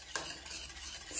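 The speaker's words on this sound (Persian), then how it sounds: "و همینطور 2 قاشق شکر قهوه‌ای رو و خوب مخلوطش میکنم" Brown sugar mixture being stirred in a pot with a utensil, a soft steady scraping and swishing that runs continuously, close and quiet, with a faint sizzle underneath and no voices.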